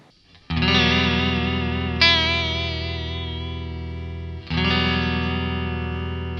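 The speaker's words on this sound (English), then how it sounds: "So now it's pretty much just vibrato." Electric guitar run through an EHX-clone chorus/flange/vibrato pedal set to pure vibrato, giving a wavering, pitch-wobbling sustained chord that is struck twice, loud and close with no talk.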